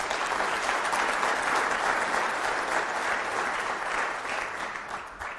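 Sustained applause from a crowd at a State of the City address in Grande Prairie, Alberta, steady and dense throughout, tapering slightly toward the end.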